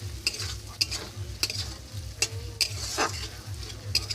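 Fried paneer being stir-fried for malai paneer, a spatula scraping and knocking the pan in a regular rhythm over a soft steady sizzle, close and fairly quiet with no talking.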